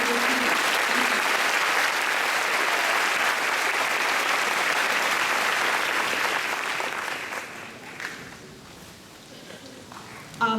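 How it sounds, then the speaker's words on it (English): A school audience claps steadily for multilingual students at a high school graduation ceremony, a dense sustained applause that fades out near the end, followed by quieter scattered sounds. "let's have one more round of applause for our excellent multilingual students"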